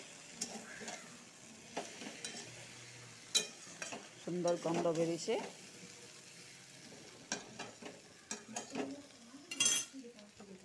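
Onion, ginger, coriander and cumin paste fries in a pan with a low sizzle, punctuated by clinks and scrapes of a spatula against the metal; a voice speaks briefly over it.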